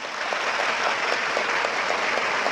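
A crowd at a motivational talk applauds steadily, many hands blending into a continuous, fairly loud patter with a few sharper individual claps standing out, and no talking over it.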